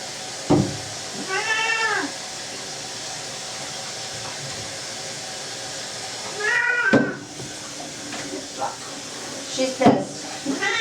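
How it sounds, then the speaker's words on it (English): A cat meows repeatedly in protest while being bathed, several drawn-out complaining cries in bursts near the start and end, close by over a background hiss like running water. "she's this gorgeous kitty who scolds me when I give her a bath"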